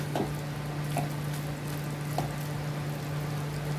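A pan of fenugreek leaf and potato vegetable simmers as its last bit of water cooks off, giving a soft, steady sizzle with a few faint bubbling pops throughout.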